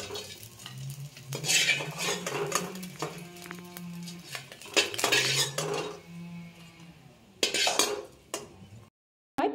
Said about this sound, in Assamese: এতিয়া মই এইখিনি মাছখিনি প্লেট এখনত নমাই ল'ম।